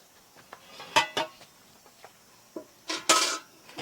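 Metal pots and utensils being scrubbed and rinsed: sparse clinks and clanks near at hand, a few sharp knocks and a louder cluster of scraping near the end, no talking.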